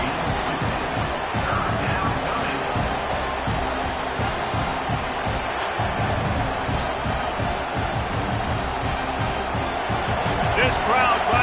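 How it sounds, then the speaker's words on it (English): Crowd noise fills a football stadium at a game, a steady, busy roar that runs under continuous play-by-play commentary. "This crowd trying to make life miserable for this offense."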